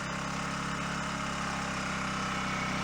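An Alp 1000 propane generator idling in eco mode, a steady, even low engine hum with a constant mechanical drone and no change in pitch, heard alone at close range.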